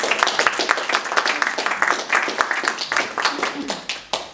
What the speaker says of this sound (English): Round of applause for Steve, because he's on first.